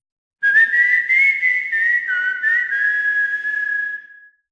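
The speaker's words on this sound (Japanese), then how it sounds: "赤いマシンでやってくる。 口笛と共にやってくる。" Bright, steady whistled melody from the Chocobo GP video game, carried alone and loud for about four seconds with smooth gliding pitch changes and no talking.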